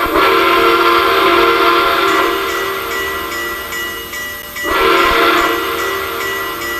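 A Southern Pacific GS class steam locomotive's whistle, modeled in a train simulator add-on, blows a long, loud, sustained chord that dips briefly and then swells again, heard close and alone without talking.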